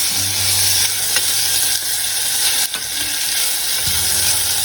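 Vegetable biryani ingredients sizzle loudly and steadily in a hot pressure cooker while a utensil scrapes and stirs through them now and then.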